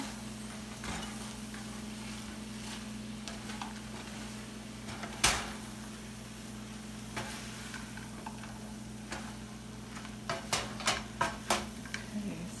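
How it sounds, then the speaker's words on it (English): Ingredients are stirred into a tofu scramble in a sizzling pan, with steady frying hiss, scraping spoon strokes and a run of sharp taps near the end, recorded close and quietly. "So we're going to add them to the tofu. Mix them up here."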